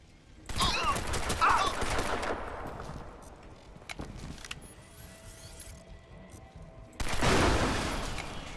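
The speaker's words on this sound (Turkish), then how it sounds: "Oğlum patlama efektine bak." Loud bursts of gunfire and explosion effects from the video game Crysis 2, coming in two heavy surges with a quieter stretch of scattered shots between them.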